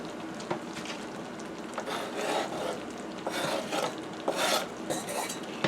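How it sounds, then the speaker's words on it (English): A knife shaving corn kernels off the cob makes a steady dense rasping scrape with repeated stroke bursts, close up, with no talk. "I'm literally just cutting it right off the cob."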